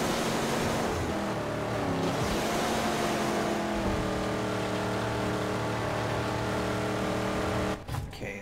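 Car engine in the Mad Max video game under a nitrous boost, a loud continuous roar with steady rising harmonic tones that holds for about eight seconds before cutting off.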